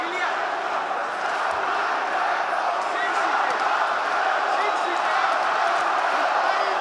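A dense arena crowd roars steadily at the Topuria vs Holloway UFC fight, a continuous wash of noise with a slight swell, while commentators talk over it.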